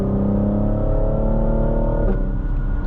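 Cadillac CT5-V sedan engine pulling under acceleration from inside the cabin, a steady loud droning rumble whose pitch rises, then drops at a gear change.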